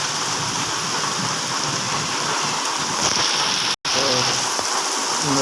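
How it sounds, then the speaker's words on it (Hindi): Heavy rain pouring down in a village, a dense, steady hiss of falling water with a brief dropout and faint low sounds underneath. "हमारे गांव में अच्छी खासी बारिश हो रही है"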